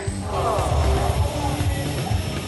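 Radio-controlled model airplane engine coming in to land at an RC meeting in Phitsanulok, a steady droning buzz that holds fairly loud and even throughout, with outdoor crowd noise around it.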